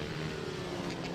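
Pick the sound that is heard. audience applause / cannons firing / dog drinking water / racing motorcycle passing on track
racing motorcycle passing on track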